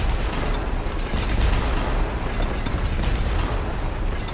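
Buildings collapsing under demolition in the Transport Fever railway-building game give a dense, continuous rumble of crumbling explosions and booms, steady and loud throughout with no talk.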